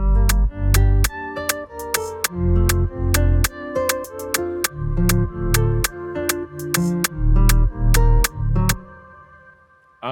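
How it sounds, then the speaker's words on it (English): Vocal chop sample from the Arcade bank in FL Studio in an Afrobeats beat, a rhythmic pattern of short pitched vocal stabs over punchy bass hits, repeating steadily before fading out. "add this vocal chop from Arcade, um, distant sound, starting with the Arcade Bank, and it sounds like this"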